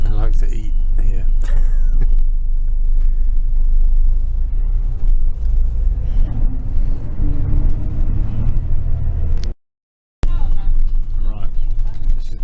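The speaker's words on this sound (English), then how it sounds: "Right, this is the bus station." Street traffic rumbles outside a bus station at night in Taipei, with passing vehicles and a steady low drone, a brief dropout near the end, and no clear talk over the noise.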